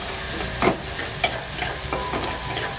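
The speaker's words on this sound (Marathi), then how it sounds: "कांदा चांगला मस्त होऊन द्यायचा," Chopped onions frying in a pan for zunka, a steady soft sizzle with a few distinct scraping stirs of a spoon against the pan.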